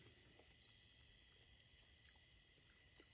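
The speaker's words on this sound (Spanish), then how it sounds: "Lo que más me gusta a mí es el sonido de los grillos." Crickets chirp steadily in the dark outdoors beside a campfire at night, a continuous high, soft trill with no talk over it.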